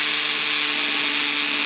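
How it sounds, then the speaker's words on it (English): A power drill runs continuously at high speed, boring into a Ski-Doo Expedition snowmobile suspension shaft, a loud steady whine with no pauses and no talking. "Try to keep your drill right straight up and down."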